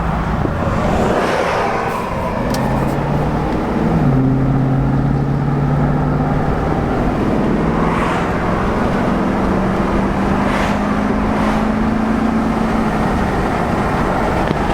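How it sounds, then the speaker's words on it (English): A 2007 Chevrolet Tahoe LT with 256,000 miles drives on the highway, its engine droning steadily with rising and falling tones as it shifts, under constant road and wind noise heard through open windows. "Roll down the windows so we can hear the engine and all, and let's boogie on out of here"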